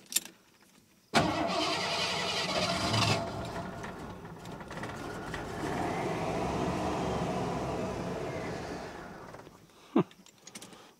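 An over-35-year-old vehicle that sat for years in the trees cranks and catches, its engine roaring into a rough, loud idle that carries on for several seconds before cutting off with a final clunk.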